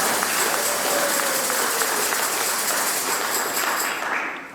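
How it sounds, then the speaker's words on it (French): Applause from a church congregation during a Mass, a dense steady patter of many hands that carries on for several seconds and fades at the end, with a few faint voices underneath. "On peut applaudir."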